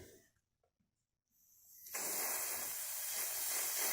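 Contact cleaner sprays onto a cotton swab after a quiet pause, a close, loud continuous hiss that starts abruptly and holds steady to the end.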